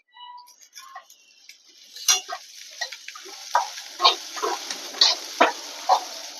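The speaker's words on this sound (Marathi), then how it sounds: "आता इथं आपण लसणीच्या पाकळ्या टाकणार आहे" Garlic cloves drop into hot oil in a pan for soybean masala, setting off crackling sizzle and spoon stirring with sharp clicks and scrapes that build after a quiet start, close and fairly loud.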